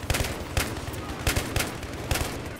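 Bursts of gunfire in the video game Battlefield 3, loud and close, recurring roughly every half second to second over a steady rumble of battle noise.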